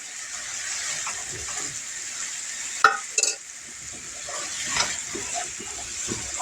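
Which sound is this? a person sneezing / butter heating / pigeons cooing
butter heating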